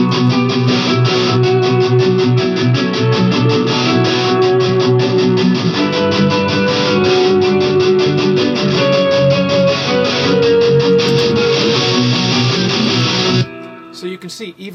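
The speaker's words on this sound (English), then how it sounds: "I'm going to boost that up in the mix a little bit so you can just hear where it's working within the ensemble" Swelling electric guitar lines sit in a dense rock mix and are raised to the front of the ensemble, sustained distorted tones over steady drums that play continuously before cutting off near the end.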